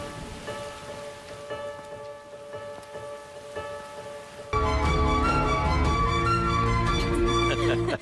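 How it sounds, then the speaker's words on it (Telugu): Heavy rain in Pune falls steadily as a dense, hissing patter, then loud music swells over it and continues for the rest of the stretch. "సరిగ్గా అప్పుడు పూణేలో పెద్ద వర్షం."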